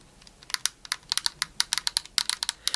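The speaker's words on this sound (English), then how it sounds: "I gotta check out the plus and minus buttons that are right here." Plastic buttons on a Rock Candy Blueberry Boom Wii Remote clicked in a quick irregular series of sharp, close taps, about two dozen presses with no talking.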